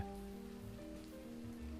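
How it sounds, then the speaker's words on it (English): Light rain falls as a soft, even patter and hiss, quiet and continuous in an audio drama sound effect, with no voices. "A light rain began to fall."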